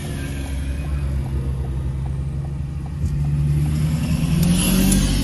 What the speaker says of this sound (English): That was a diesel.